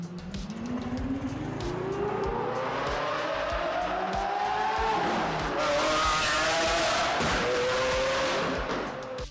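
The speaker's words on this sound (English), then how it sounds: "this is arguably the best sounding car in the entire game" In GTA Online, the Benefactor Stirling GT's powerful engine revs and climbs through the gears, its pitch rising repeatedly, with tires squealing over the sustained roar.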